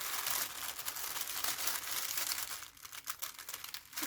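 Tissue paper wrapping crinkles and rustles close up as a sticker is peeled off it, a run of dense crackling with a few sharper bursts toward the end.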